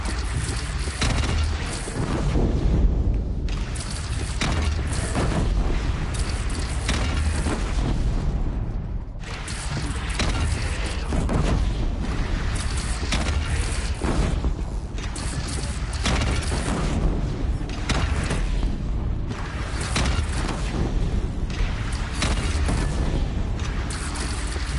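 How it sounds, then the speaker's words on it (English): Repeated heavy cannon booms fired by bandits in the video game Horizon Zero Dawn, loud and continuous across the battle, with dense rumbling blasts and clattering gunfire layered together. "They only have one cannon!"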